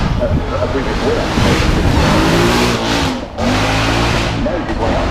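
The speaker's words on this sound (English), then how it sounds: "the Rolls-Royce Wraith, the black badge" A Rolls-Royce Wraith Black Badge with its 6-litre V12 launches off the hillclimb start line at the Goodwood Festival of Speed 2016, a loud, sustained engine roar that builds steadily, with a brief dip near the end, while commentators talk over it.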